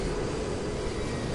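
Helicopter flying in Resident Evil 6, a dense, continuous engine and rotor roar, loud and steady for the whole short stretch.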